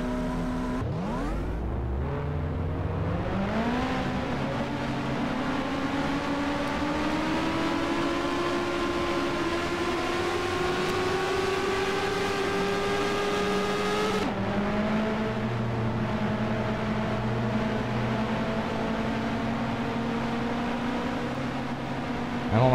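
Race car engines in the NR2003 racing game fire up and climb steadily in pitch, a loud, sustained whine of several revving motors that drops and settles after a gear change midway.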